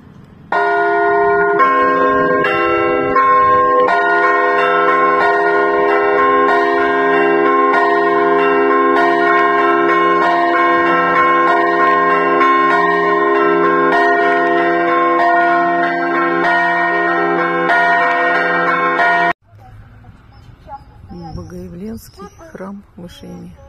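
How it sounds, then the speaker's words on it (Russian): A church bell rings at St. Nicholas church in Ishim, a Siberian Baroque temple, with loud, sustained, richly ringing overlapping tones for about nineteen seconds before cutting to quieter ambient sound with voices. "Колокол."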